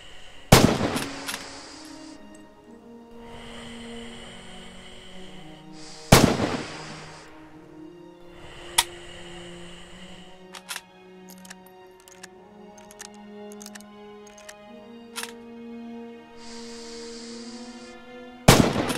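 Video-game gunfire on a training range in Rising Storm sounds as sharp, loud single rifle shots, a handful spread irregularly over the stretch. Bursts of crackling impacts and clatter follow some of the shots, with quieter gaps of ambient noise between them.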